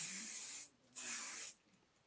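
Two long hissing bursts of Tom Ford Neroli Portofino cologne from a spray atomizer, each lasting over half a second with a short pause between, close and clear with no talk.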